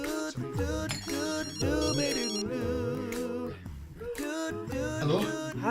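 A telephone rings during a job interview, its tone repeating steadily and loudly over a dense, musical background with layered tonal patterns throughout.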